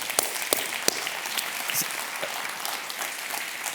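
Church congregation applauding together during a Spanish-language service, sustained clapping from a crowd with a few sharper individual claps standing out.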